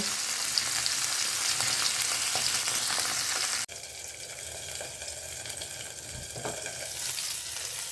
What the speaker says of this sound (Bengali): যতক্ষণ মাছটা ভাজা আছে ততক্ষণ আমি টমেটো, আদা বাটা এগুলো আমি রেডি করে নেব।